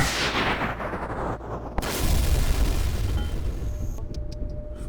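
Dense, rumbling bursts of procedurally generated gunfire and booms fill the clip, continuous and heavy, with a sharp crack partway through.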